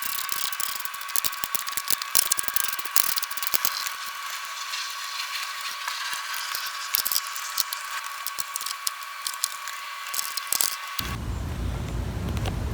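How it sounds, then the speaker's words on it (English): A ratchet wrench tightens bolts on a front strut tower brace of a Cadillac ATS, producing a continuous rapid clicking close by for most of the stretch before stopping near the end. "I will adjust this center bolt after I get everything locked and loaded."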